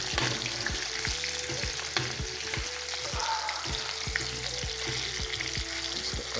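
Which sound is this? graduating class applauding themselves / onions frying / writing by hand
onions frying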